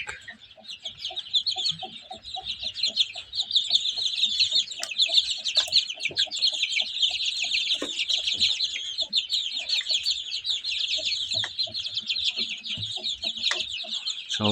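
Dozens of young chicks from a brood raised by forty hens peep constantly in a busy, overlapping chorus, with occasional low clucks from adult hens, close by and unbroken throughout.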